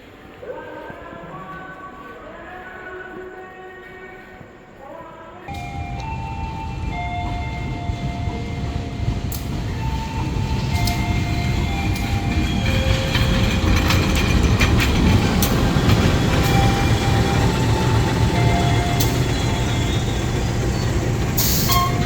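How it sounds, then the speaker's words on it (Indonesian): Jatiluhur local commuter train running on rails: after a quieter hum with tonal whine, a loud rumbling roar swells in and continues steadily, with rattling clacks and hiss from inside the carriage. "Kereta api lokal yang saya tumpangi ini adalah komuter lain Jatiluhur."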